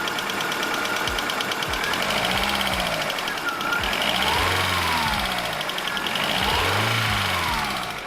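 A car engine that has just started runs steadily close by, with a knocking mid-pitched idle, and its revs rise and fall in slow swells throughout.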